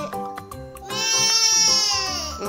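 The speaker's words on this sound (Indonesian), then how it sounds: "Ini apa nih, Dek? Kambing." A goat bleats in a long, wavering, harmonic cry that swells after a short pause and holds for well over a second, close and loud, with a child's learning game playing around it.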